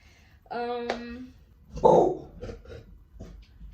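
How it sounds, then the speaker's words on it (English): A pet dog barks indoors, a single sharp harmonic bark followed by a louder yelp and a few softer barks and whimpers, fairly close. "My girlfriend came in here causing my dog to bark"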